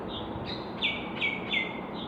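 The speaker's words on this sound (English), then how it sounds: "Like if you listen to the birds tweet" A few short bird chirps over steady background noise, with three brighter tweets spaced evenly in quick succession.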